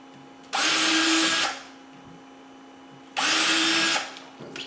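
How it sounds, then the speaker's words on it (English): A power drill whines in two loud bursts, each about a second long, as the bit touches into the side of a workbench to mark a hole, with quiet pauses between. "I use the wrong drill."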